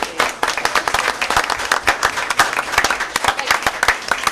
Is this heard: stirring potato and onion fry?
no